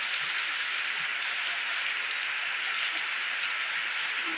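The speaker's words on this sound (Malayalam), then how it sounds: "ഇതിലെ മഴയിൽ" Steady broadband hiss of rain falling while work goes on outdoors, an even, continuous wash with no breaks, close and fairly loud throughout, with no voices.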